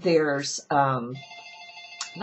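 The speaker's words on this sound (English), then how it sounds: "sorry about my phone. I forgot it was in here." A mobile phone rings with a bright electronic ringtone, steady and fairly close, first sounding over a person's talking and then continuing on its own before the voice returns.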